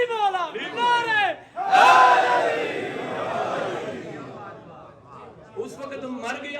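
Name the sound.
crowd chanting religious slogans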